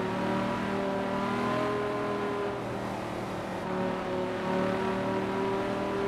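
A Lamborghini Gallardo LP570-4 Spider engine in Forza Horizon 4 drones steadily at high revs, with a sustained loud, tonal whine that dips slightly and then rises again.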